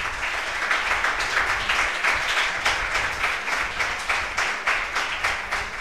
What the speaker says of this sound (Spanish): la iglesia va a brindarle un fuerte aplauso al Señor por estas vidas